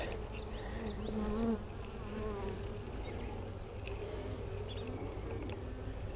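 Honey bees drone in a steady, close buzz during a hive inspection, with individual bees' pitch rising and falling as they fly near.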